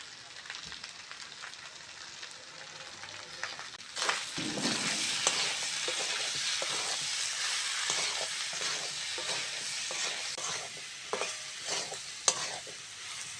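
Spices of turmeric, salt and chili powder hit hot oil in a pan for a rustic prawn and taro curry, a steady loud sizzle with repeated scraping stir strokes throughout.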